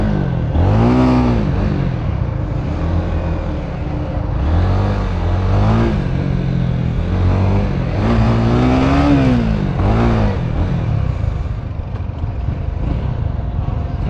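A Honda Winner X motorcycle engine revs repeatedly while riding, rising and falling in bursts of loud, close-up revving with a rough, rasping note.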